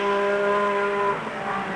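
A Renault V6 Turbo race car at the 1978 24 Hours of Le Mans sounds a steady, high engine whine, then the tone drops away after about a second as the car passes, loud and close.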